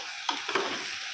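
Green chillies hit hot oil in a frying pan, a steady hiss and sizzle with a couple of brief clinks or stirring scrapes near the start, close and fairly quiet.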